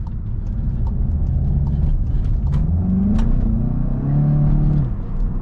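A 2018 Volkswagen Golf GTI with a 2-liter turbo engine accelerating in Sport mode on the autobahn, its low engine drone rising steadily in pitch from a cabin-level hum, continuous and fairly loud.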